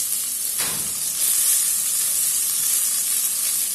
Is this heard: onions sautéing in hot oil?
yes